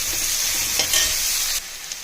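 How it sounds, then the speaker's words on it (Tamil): Onions and mustard seeds frying in a kadai, a steady close sizzle with faint stirring scrapes and a brief clink partway through, no voices. "கடாய் வச்சு கடுகு போட்டு வெங்காயம் போட்டு வதக்கணும்."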